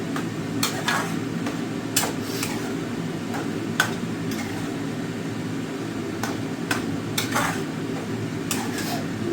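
Mutton sautés in oil and ghee in a pan with a low, steady sizzle, broken by sharp clicks and taps of a utensil against the metal scattered throughout; no one speaks.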